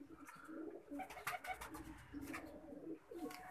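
Faisalabad-breed blue kamagar pigeons coo softly and repeatedly, a faint, low murmuring series of coos with a little background noise.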